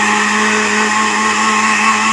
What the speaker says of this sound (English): I just took a ladle and I put it in the blender.